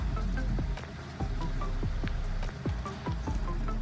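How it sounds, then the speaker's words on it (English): Steady rain falling outside, a dense close patter with scattered drips, continuous and even throughout. "Just rainy."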